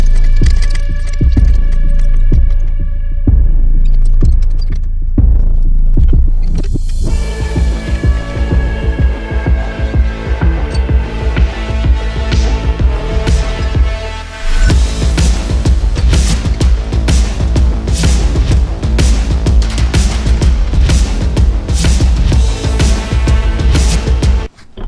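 Bending 2 mm steel brackets in a workshop for a wide-body car build: a loud, continuous mechanical drone with a throbbing pulse and ringing metallic tones, running steadily throughout with no talking.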